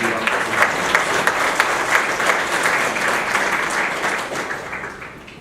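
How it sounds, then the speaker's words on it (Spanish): Sustained applause from a sizable crowd, steady and fairly loud for several seconds before gradually thinning out at the end. "Démosle un fuerte aplauso"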